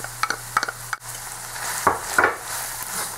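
Ground meat with tomato paste and Worcestershire sauce is stirred in a sizzling pan for a low-carb shepherd's pie, a spoon scraping and clacking over a steady frying hiss.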